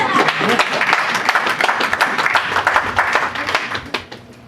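A church congregation applauds with steady, dense clapping, loud and close, which fades toward the end as a voice speaks beneath it.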